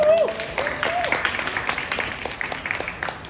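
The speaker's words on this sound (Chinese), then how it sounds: "接着热情掌声欢迎" Applause from the audience at a TCCF press launch for a TV drama, as a cast member is welcomed: a scattered patter of claps, starting just after a voice and running beneath continuing chatter.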